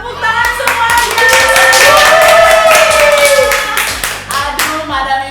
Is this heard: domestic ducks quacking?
no